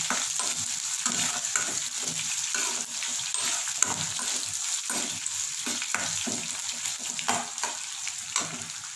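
Onions and green chillies sizzle in hot oil in a pan while a spoon stirs and scrapes them in a steady rhythm of repeated strokes, close and alone without talk.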